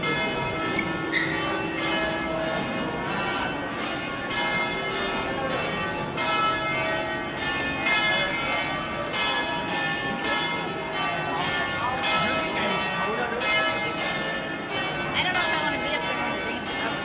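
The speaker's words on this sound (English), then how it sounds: "The bells are playing." Church bells ring out steadily in St. Mark's Square, Venice, a dense, continuous peal of overlapping strokes that stays loud and close for the whole stretch.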